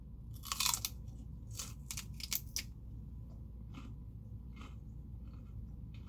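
A stick of celery dipped in red pepper hummus is bitten and chewed close up, with a few sharp wet crunches early on, then softer, spaced chewing.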